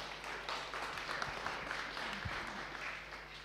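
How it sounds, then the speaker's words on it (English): Faint applause from a small audience at a DeFi meetup, a steady patter of clapping that sounds somewhat distant and carries a low background hum. "Round of applause."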